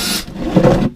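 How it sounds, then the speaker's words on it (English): A power drill bites into a plastic bucket when starting a hole for patio tomato planters, giving a loud, close, one-second grinding whir with no talking. "Handy dandy drill. Just find a spot and start through."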